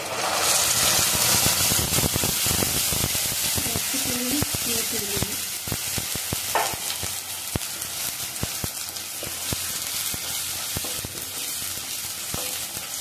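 Spinach paste tipped into a pan of browned onions for palak paneer, giving a steady loud sizzle with scattered clatters of stirring and a few faint vocal traces underneath.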